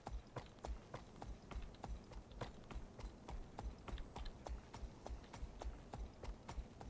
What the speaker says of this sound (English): hearing those footsteps underfoot from the dinosaur that I'm riding